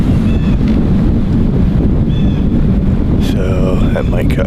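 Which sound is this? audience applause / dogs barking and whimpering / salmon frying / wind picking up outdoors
wind picking up outdoors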